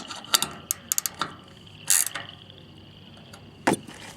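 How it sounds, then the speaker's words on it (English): A 10mm wrench snugs up the bolts on a trailer tail light, giving short bursts of quick ratcheting clicks and metallic taps. The sounds are close and sparse and come in separate groups over quiet background noise. "Grab a 10mm. Snug those up just a little bit."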